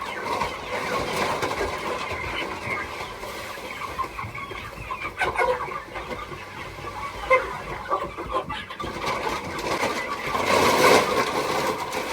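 Meat chickens in a backyard coop cluck and squawk steadily for the whole stretch, fairly close and busy. A faint engine-like rumble runs underneath, and the calls grow louder near the end.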